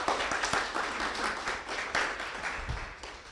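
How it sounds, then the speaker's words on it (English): Audience applause at an awards ceremony for scholar investment prizes, a dense steady patter of many hands clapping together, fairly close and continuous throughout with no voices over it. "and a big round of applause"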